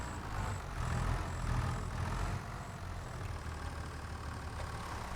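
A tractor engine runs steadily at close range as it is being put away on a homestead, a low, continuous rumbling drone with slight pulsing and no talk.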